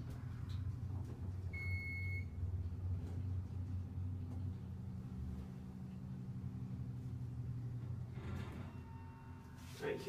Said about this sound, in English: let's be quiet and listen to the motor